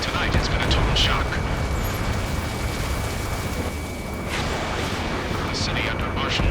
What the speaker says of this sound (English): The city under martial law. Gunfire. Jets echoing through the streets.